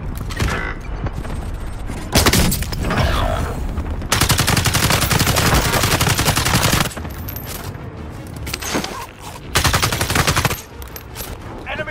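Rapid video-game gunfire fills the scene, loud bursts of automatic weapon fire and shots rattling almost continuously with brief lulls between heavy volleys.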